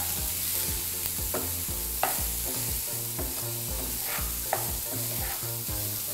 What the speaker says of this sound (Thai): ผัดแบบนี้นะครับด้วยไฟต่ำๆต่ออีกประมาณสัก 2-3 นาที